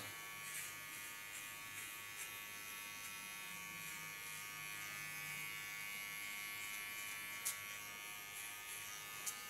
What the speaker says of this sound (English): This, by the way, ultra fine Keone small clipper.